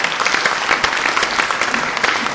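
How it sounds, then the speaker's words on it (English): An audience claps steadily and briskly at an induction ceremony, giving inductees a sustained round of applause with a dense, even texture throughout. "Let's give all the inductees another round of applause."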